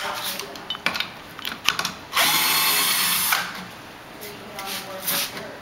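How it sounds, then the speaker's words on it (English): A handheld power tool whirs in bursts while concrete tiles are freed from their formwork, with short rattling runs and one longer steady drone, close by amid outdoor background noise. "We brought a power tool with us to make things easier."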